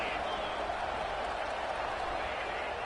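A football stadium crowd roars steadily in a dense, continuous wash of cheering and clapping on a big third-down play, loud and sustained throughout.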